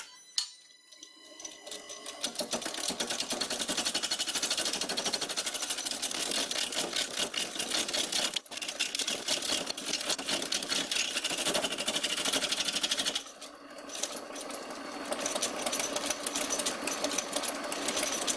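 A wood lathe spins an alder wood bowl as a gouge cuts into it, giving a steady, bright, close scraping and rattling hum that runs almost unbroken after a quiet start, dipping briefly twice.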